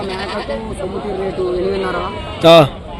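A goat at a sheep and goat market in Rajarampalli gives one loud, close bleat near the end, rising above a steady hubbub of crowd chatter.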